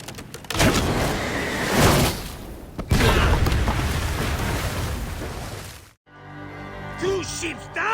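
Ships blow up in Assassin's Creed Origins with heavy, rumbling explosions and crashing debris, a loud sustained roar that cuts off abruptly before quieter game sounds and a voice return.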